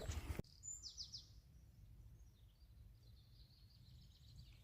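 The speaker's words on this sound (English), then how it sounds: "the birds are singing their little hearts out today" Birds singing outdoors in a plantation on a summit walk, faint scattered chirps and twittering calls in the distance over a soft low breeze, after a short handling bump at the start.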